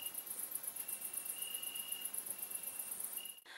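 Crickets chirp steadily in a rapid, high pulsing trill that runs on without a break, with a thin sustained tone drifting in and out and the sound cutting off abruptly at the end.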